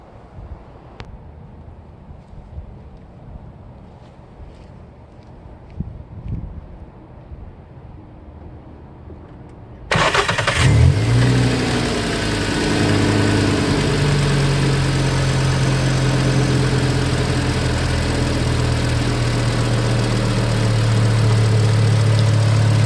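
Quiet room noise, then at once a warmed-up car engine turns over and settles into a steady, loud idle at normal speed with a low rumble that runs to the end.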